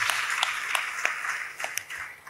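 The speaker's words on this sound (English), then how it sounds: "please, another round of applause for Mr. Atado Peterside" Audience applause at a public event honoring a speaker, a steady wash of many hands clapping at moderate distance, with a few sharper individual claps standing out.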